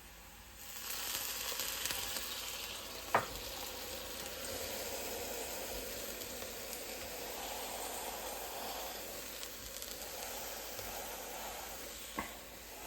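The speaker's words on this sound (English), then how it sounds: "I'm gonna add a little bit of water in the pan just to get it steaming" A mushroom-based plant steak sizzles and steams steadily in a pan after a splash of water is added, a continuous bright hiss with two sharp clicks from the pan, no voices.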